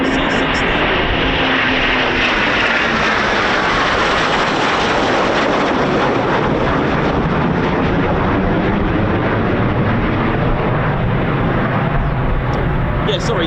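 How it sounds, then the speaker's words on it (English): Eurofighter Typhoon FGR4 jet at RAF Coningsby, a quick reaction alert station, roaring loudly and continuously throughout, its broad engine noise sweeping in pitch as it passes. "In Britain we call it the Typhoon FGR4."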